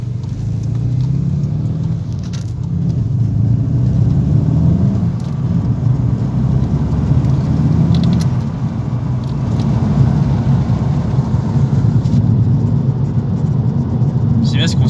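A Volkswagen Golf GTD with a manual gearbox drives on asphalt, its tyres gripping the road with a steady, loud rumble and continuous road roar throughout, with no clear breaks.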